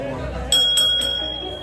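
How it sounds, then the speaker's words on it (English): A restaurant bell rung by staff for a birthday at Route 99 in Brooks, Oregon: three bright strikes whose tone rings on, heard fairly close over steady dining-room crowd chatter. "You guys ring the bell? On birthdays."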